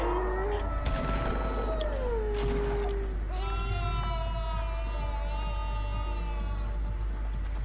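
Someone imitates a sheep and goat bleat over steady game background noise, giving a wavering vocal cry, then a longer quavering bleat. The voice is close and loud.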